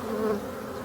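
Black honeybees, the forest bee, buzzing near and steady in a brief, soft low drone with no voices.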